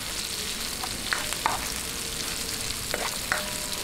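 Sliced onions sautéing with ginger in a pan for Filipino tinolang bangus, a steady soft sizzle with a few brief stirring clinks and scrapes scattered throughout.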